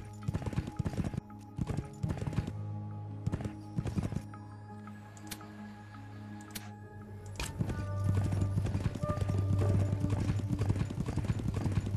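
Horse hooves clip-clopping in the video game Heroes of Might and Magic VI: a steady, close run of hoofbeats over a droning game soundtrack, with a brief whinny and faster riding toward the end.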